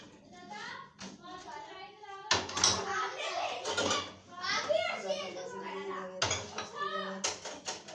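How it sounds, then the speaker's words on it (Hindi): Dishes, pots and pans being washed by hand in a home kitchen, with clinking of cutlery and crockery running steadily under nearby talk and children's voices. "ये देखिए, ये धो लेंगे बर्तन।"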